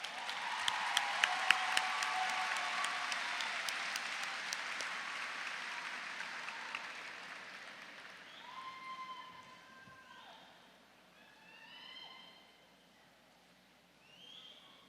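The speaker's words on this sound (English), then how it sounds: "we're going to all congratulate you again with another round of applause" Audience applause for scholars at a Dallas ISD school recognition ceremony, a dense round of clapping that swells loudly over the first few seconds, then fades out, leaving scattered softer sounds.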